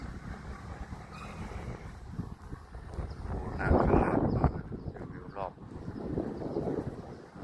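Wind blows by a river, producing a steady, rough buffeting rush across the microphone that swells in the middle and persists throughout, with someone talking over it.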